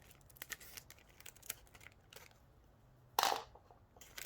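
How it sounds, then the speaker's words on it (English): Scissors cut open a plastic craft package with one sharp, loud snip-and-tear burst standing out from quiet handling rustles. "I guess I just have to cut this open with scissors."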